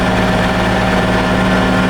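A tractor engine runs at a steady idle in the rain, a low, even rumble with a constant throb and no pauses.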